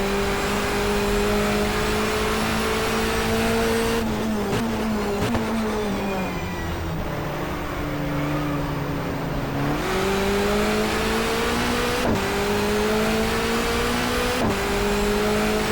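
Touring race cars from a 1994 Asia-Pacific touring car championship field (Hondas, Nissans, Mazdas, Toyotas) accelerating on track, engines droning and rising through the gears, loud and close, with sharp shifts and passing bursts throughout.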